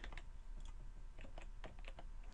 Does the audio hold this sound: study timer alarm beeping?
no